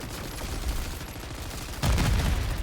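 Explosions and gunfire in MW3 Zombies, a video game, come as a dense rattle of rapid bursts that suddenly swells into a heavier, louder blast near the end, with no voices over it.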